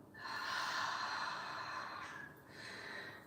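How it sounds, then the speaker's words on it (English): A single long, audible exhale during a yoga session, a breathy sigh lasting about two seconds, followed by a softer second breath, close and fairly quiet, with no talk. "This time, option to take an audible breath out."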